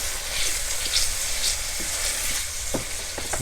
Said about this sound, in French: on peut rajouter maintenant les lardons. C'est reparti pour quelques instants de cuisson